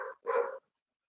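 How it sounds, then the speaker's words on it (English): A dog gives two quick barks close by, the first short and the second fuller and louder, followed by silence. "You hear the dog?"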